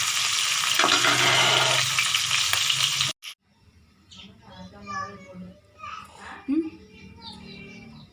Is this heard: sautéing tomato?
yes